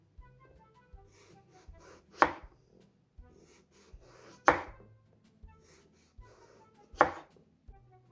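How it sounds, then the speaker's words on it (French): A knife slices peeled eggplant into rounds about 1 cm thick on a board, with three sharp chopping thuds spaced a couple of seconds apart between quieter cutting and handling sounds. "je vais les couper en rondelles de plus ou moins 1 cm"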